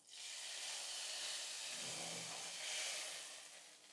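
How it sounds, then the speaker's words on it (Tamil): Hot oil is poured into rice flour murukku dough, giving a steady close sizzling hiss for a few seconds that swells slightly midway before cutting off. "நல்லா சூடான எண்ணெயை ஒரு 5-6 ஸ்பூன் அளவுக்கு சேர்த்துக்கலாம்."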